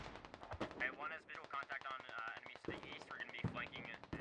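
Automatic gunfire rattles through a firefight in the Squad video game, bursts of shots layered under near-continuous talk from players calling out positions.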